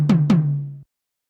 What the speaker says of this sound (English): let's go ahead and load up the tom drums from the Oberheim DMX drum machine